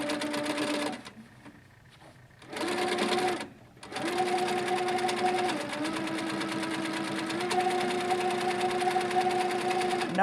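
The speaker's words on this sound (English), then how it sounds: "and now it's time to quilt again." A sewing machine quilting with a couching foot from a Handi Feet couching kit runs in steady humming bursts, stopping briefly twice before a long continuous stretch of stitching, close and fairly loud.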